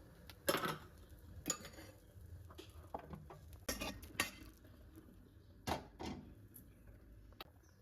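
A metal spoon scrapes and clinks against a pan while turmeric and rock salt are mixed and moved onto a plate, giving sparse, sharp knocks and light rattles at a close, quiet level.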